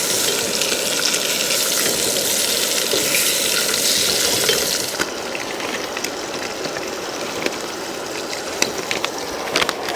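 Bacon frying in a pan at a desert tent campsite, with a steady broadband sizzle that drops a little in level partway through and keeps crackling, a few sharper pops near the end, and no talking.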